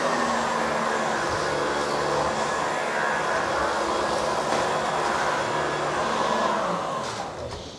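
An Oreck Magnesium LW1500RS upright vacuum cleaner roars steadily and close on a hard floor at slow speed, its motor droning without a break, then tapering off at the very end.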